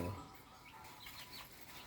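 Chickens cluck faintly at a rural home, soft and close amid low background noise.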